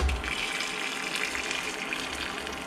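Liquid pours steadily into a mixing bowl while marshmallow filling is being made, giving a continuous soft splashing gush with no talking.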